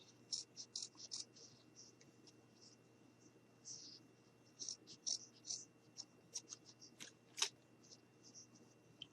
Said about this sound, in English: I'm just going to go ahead and cut it